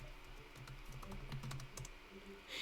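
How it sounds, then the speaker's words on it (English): Rapid typing on a computer keyboard, pseudocode being entered during a lecture; a steady run of close, crisp key clicks and clacks with a brief louder burst near the end, no talking. "I'm going to be kind of lazy in typing things"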